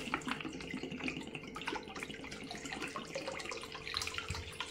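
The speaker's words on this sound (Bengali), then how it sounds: "কড়ার মধ্যে দিয়ে দেবো জল" Water is poured into a wok for boiling pasta, a steady splashing stream with irregular gurgles, close and moderately loud, with no talking.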